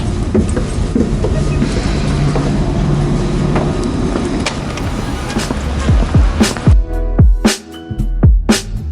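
Interior of a moving train in Belgium, a continuous rumbling roll of wheels on track that turns into sharp, rhythmic clickety-clack clicks over the rail joints toward the end, close and fairly loud.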